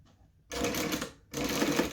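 An electric sewing machine stitches a seam on fabric in two close, loud bursts of rapid rattling separated by a brief pause.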